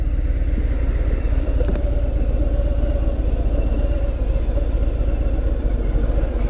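A 2018 Harley-Davidson Fat Bob motorcycle rumbles steadily up close, its engine note low and even as it rolls to a stop and idles, with no talking.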